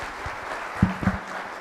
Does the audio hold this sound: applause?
yes